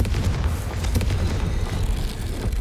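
A Confringo spell explosion in the video game Hogwarts Legacy: a dense, rumbling blast with heavy low boom and crackling debris, sustained loudly throughout the short clip.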